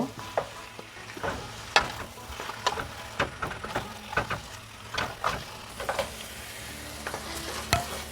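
Marinated meat being stirred and fried in a pan of cooked-down spices, a steady sizzle broken by repeated sharp scrapes and knocks of the spoon at a regular pace, close and fairly loud.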